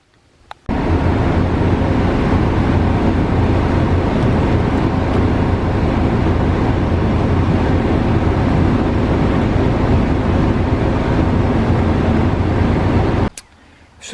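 A Jaguar XJ6 engine starts abruptly and runs at a steady, loud idle heard close up for about twelve seconds, then cuts off with a clunk, no voices over it.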